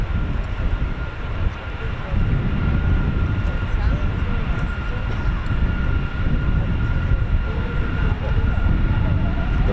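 Two military aircraft depart together as a two-ship flight at an air base, a loud steady engine roar filling the whole stretch without letup, with low rumble dominating and a faint tonal whine riding on top.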